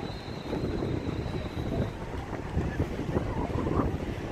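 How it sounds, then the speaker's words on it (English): Wind gusts across the microphone on a boardwalk beside the ocean, a fairly quiet, steady rushing with faint surf beneath and no clear speech. "Got a little wind."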